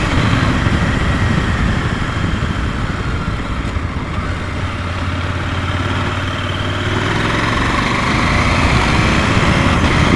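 A KTM 890 Adventure R motorcycle riding along narrow back roads, its engine droning steadily with wind rush, a constant loud hum that barely changes in pitch throughout.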